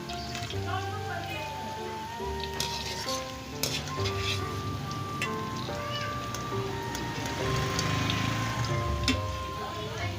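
Okra (lady fingers) fries in a pan, a steady close sizzle running the whole time, with clinks and stirring scrapes scattered through and a sustained tonal hum layered over the frying.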